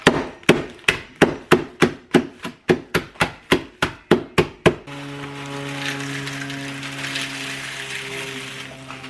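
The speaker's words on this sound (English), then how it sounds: "Now we got some pretzels we're gonna go ahead and chop up." Pretzels are chopped with about fourteen sharp, evenly spaced knife strikes on a board, loud and close, followed by a quieter stretch of humming background noise.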